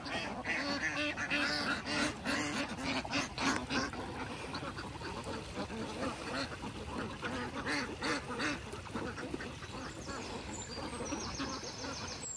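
A large flock of farmed ducks quacks continuously at a duck farm, many overlapping calls forming a dense chattering chorus at moderate distance, with faint voices in the background.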